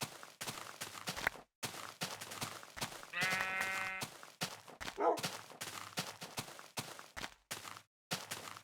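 Sheep bleating in Minecraft, with one clear harmonic bleat lasting about a second in the middle, surrounded by dense game sounds and short bursts.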